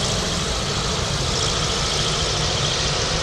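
Beechcraft 1900 turboprop of Ace Express taxiing at Anchorage airport, its engines a steady, continuous droning roar with a broad hiss, constant in level throughout with no voices.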